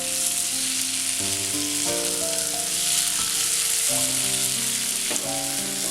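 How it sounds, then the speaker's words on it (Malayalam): Precooked mushrooms for a dry fry sizzle steadily in a hot pan while being stirred, a dense, continuous frying hiss with occasional scraping tones, close and loud, no voices. "നമ്മൾ വേവിച്ച് വെച്ചിരിക്കുന്ന കൂണി ചേർക്കാം. അതിനുശേഷം ഇത് നന്നായിട്ട് മിക്സ് ചെയ്തെടുക്കാം."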